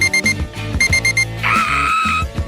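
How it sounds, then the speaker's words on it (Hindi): Smartphone alarm ringing loud and near in a rapid repeating electronic beep pattern, then a sustained shrill tone before the beeping resumes. "एक अलार्म जो मुझे नहीं चाहिए था।"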